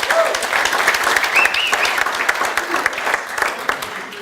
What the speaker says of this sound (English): Let's give these guys a round of applause for joining us